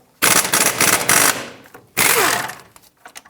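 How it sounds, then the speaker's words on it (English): A power tool rattles loose the caliper bracket bolts on a 2007-2014 Chevrolet Silverado 2500 HD front brake, two loud close hammering bursts, the first about a second long, the second fading out, with no talking. "remove both of the caliper bracket bolts so we can remove the entire caliper and bracket assembly"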